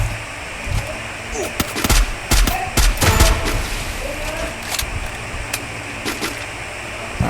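Woodpecker rifle shots in a video game, a handful of sharp cracks scattered unevenly over a busy, noisy background, moderately loud.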